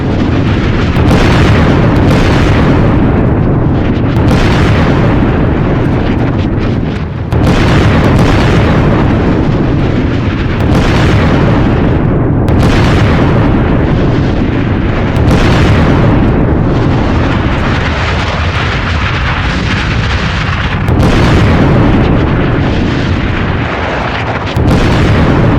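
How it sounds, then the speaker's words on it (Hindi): Israeli army strikes in Lebanon produce a continuous barrage of loud, heavy explosions, with repeated sharp booms every few seconds over a dense, rumbling roar, and no talking. "किस तरह से इजरायली सेना लेबनान में देखिए जरा धमाके कर रही है।"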